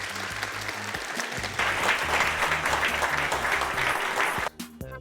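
Audience at an avalanche safety talk applauding Mike, a busy patter of many hands over a low rhythmic hum, swelling midway before breaking off abruptly near the end.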